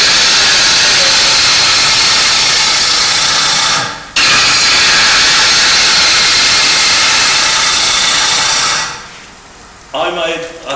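Wood lathe roughing out a bowl with a gouge, a loud, steady broadband hiss and roar of cutting that runs continuously, breaks briefly, resumes, then cuts off near the end, leaving a quiet tail with a short voice.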